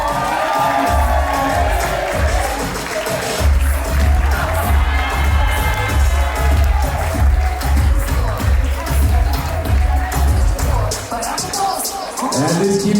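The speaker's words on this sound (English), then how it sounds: "And let's keep those hands clapping for maid of honor and best man." Wedding guests clap and cheer as the bridal party, the maid of honor and best man, makes its entrance at the reception, a loud, steady swell of whoops and applause over pounding dance music that dips near the end.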